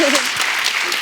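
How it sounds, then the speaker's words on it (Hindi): Studio audience clapping on a comedy talk show, a dense wash of applause sustained throughout the short stretch, with a voice briefly over it at the start. "जोरदार ताली हो जाए इनके लिए"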